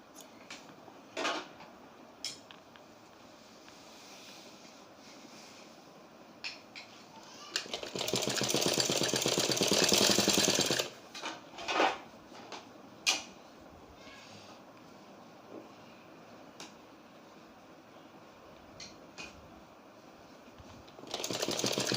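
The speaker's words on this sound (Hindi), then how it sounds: "अब ये लास्ट हमारी कॉलर की है स्टिचिंग है।" A sewing machine stitches a blouse collar in a close, steady whir of about three seconds, surrounded by quiet handling clicks and taps of fabric and tools.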